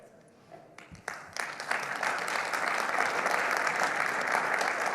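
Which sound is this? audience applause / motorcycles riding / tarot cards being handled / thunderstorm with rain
audience applause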